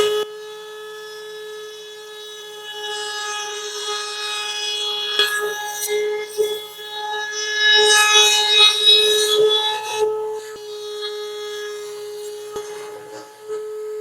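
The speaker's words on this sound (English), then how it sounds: "that little piece that was rough cut down there at the bottom will be trimmed off by the router bit" A router bit trimming the rough edges of CNC-carved wooden trays in a workshop, a steady high motor whine with bursts of cutting noise as the bit bites into the wood, ending in a brief lull.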